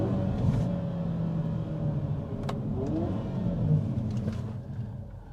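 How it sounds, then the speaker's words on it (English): A 2023 Hyundai Kona N subcompact SUV accelerating from inside the cabin, low engine drone rising in pitch as it revs, with a few sharp exhaust pops and crackles cutting through. "You can hear the exhaust crackles."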